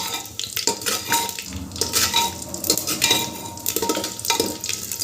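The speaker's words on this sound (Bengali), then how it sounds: "দেখুন মশলাগুলো ভাজা ভাজা হয়ে যাচ্ছে" Oil sizzles steadily as whole spices fry in a metal handi pot for mutton curry, with a metal spoon stirring and scraping against the pot throughout.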